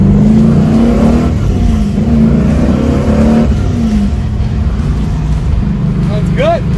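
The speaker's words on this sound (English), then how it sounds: "Do some burnouts." A loud car engine roars and revs up close during a burnout, its pitch rising and falling in surges, with voices talking over it.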